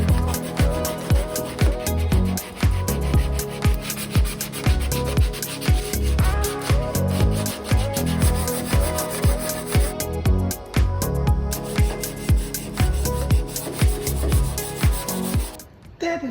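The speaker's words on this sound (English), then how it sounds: "Let's start with grinding down some filler" Body filler being ground down on an Opel Kadett GSI under restoration: a loud, continuous abrasive rasping with repeated rhythmic strokes, running on and on before stopping abruptly near the end.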